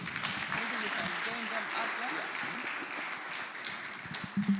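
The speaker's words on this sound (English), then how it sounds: "let's give a round of applause, a louder one." Audience applause at a career expo launch, moderate and sustained, with voices and chatter audible beneath the clapping and a brief louder burst near the end.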